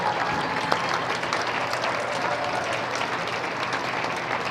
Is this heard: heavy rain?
no